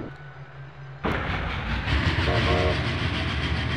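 A steam train in a video game bursts in after a quieter second, then runs as a loud, close rumble and rattle with a faint whistle-like tone partway through.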